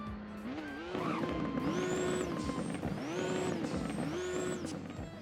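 An SSC Tuatara revs in the Roblox game Driving Empire, a loud synthetic engine climbing in pitch three or four times in a steady rev-and-drop cycle, with a high whine rising over each surge.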